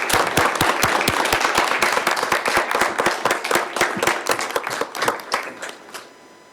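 Small audience clapping at a town council meeting, a round of distinct, close handclaps that runs steadily and then thins out and fades to quiet.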